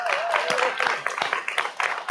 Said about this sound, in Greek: Ένα μεγάλο χειροκρότημα στον Δημήτρη